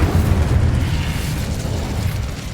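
A Confringo blasting spell erupts in the Hogwarts Legacy video game, a loud, sustained rumbling blast with heavy low-end roar that holds steady for a couple of seconds without fading.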